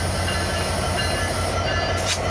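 A passenger train running near a station platform, with a continuous loud rumble and rolling wheel noise throughout and a brief squeal toward the end.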